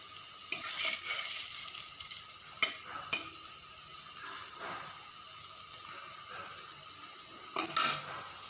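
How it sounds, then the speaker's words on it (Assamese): Lentil fritters (bora) fry in hot oil in a pan, giving a steady sizzle with occasional stirring scrapes and clinks, close and fairly loud, with no talking. "বৰা ভাজা হৈ গ'ল"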